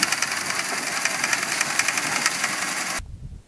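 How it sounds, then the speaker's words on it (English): A water-driven oscillating sprinkler mounted on the side of a trampoline runs with a steady, loud, rhythmic mechanical whirring and spraying hiss, then cuts off abruptly near the end. "The following is a video of the side sprinkler in action."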